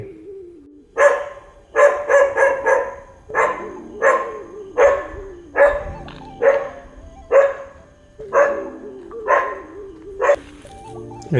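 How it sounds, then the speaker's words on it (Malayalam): Several neighbourhood dogs bark in repeated bursts, close and loud, a steady run of sharp barks with brief gaps, some overlapping, with no talk over them. "പുറത്തോട്ട് ഇറങ്ങിയപ്പോഴത്തേക്ക് നമ്മുടെ ഏരിയയിൽ തന്നെയുള്ള പട്ടികളാണ്. നല്ല കുരയുണ്ട്."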